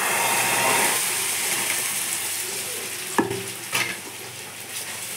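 Chicken gola roti batter sizzles steadily in a pan at close range, with two sharp clinks of a spatula or utensil near the end and no talking.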